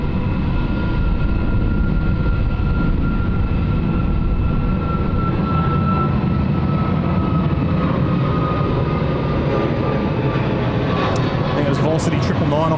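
Jet aircraft at Sydney Airport roar steadily and loudly throughout, a broad engine rumble with a sustained whine on top, while people talk over it.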